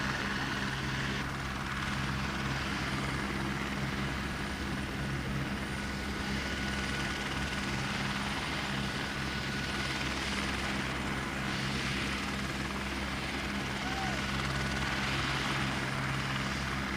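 Helicopter flying over New Caledonia, a loud, steady rotor and engine drone with a constant low throb that fills the whole stretch, close by and without talk.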